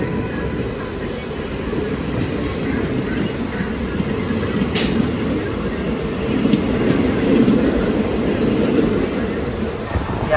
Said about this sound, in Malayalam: ഇത് ഈസ്റ്റ് കോസ്റ്റ് റെയിൽവേ ഓപ്പറേറ്റ് ചെയ്യുന്ന വണ്ടിയാണ് കേട്ടോ